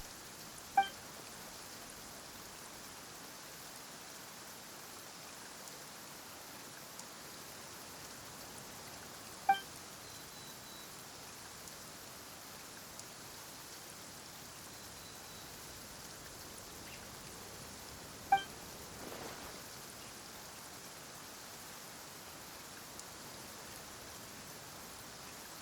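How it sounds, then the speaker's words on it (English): Rain falls in Genshin Impact as a soft, steady hiss of drops, faint and even throughout, with a few brief clicks scattered over it and no talking. "Why is it raining all of a sudden?"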